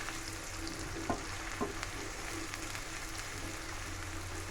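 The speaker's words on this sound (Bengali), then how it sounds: "এখন আমি চুলার আঁচটা মিডিয়ামে রেখে এটাকে গোল্ডেন কালার করে ভেজে নিব" Onions frying in oil over medium heat until golden for beef biryani, a steady close sizzle with a couple of soft utensil taps along the way.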